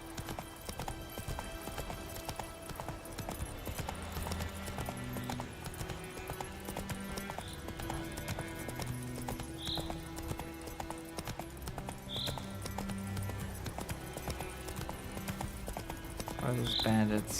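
Horse hooves galloping in the video game The Witcher 3, a steady rhythmic clip-clop throughout with an occasional whinny, under someone talking and game music.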